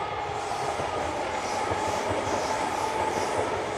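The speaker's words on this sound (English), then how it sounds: "There's a railway going over that little bridge." A train rumbles steadily over a small railway bridge at moderate distance, a continuous rolling roar with faint rail noise and no voices.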